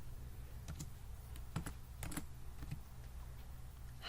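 Computer keyboard typing: quick irregular keystrokes clicking in short bursts, fairly close and quiet, with no talking.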